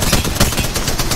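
Rapid automatic gunfire from a firefight in Apex Legends Mobile, a dense, loud burst of overlapping shots filling the whole moment with no voice over it.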